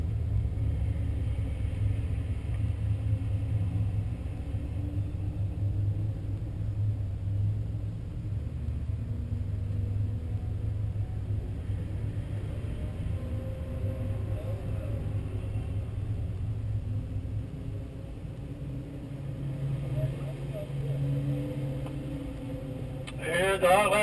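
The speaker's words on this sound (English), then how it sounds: "you've got two Porsches chasing a very powerful and good-looking Chevy Corvette for the lead" Two Porsches chase a Chevy Corvette in a road race at Road Atlanta, their engines making a steady, fairly distant low drone that rises slightly toward the end.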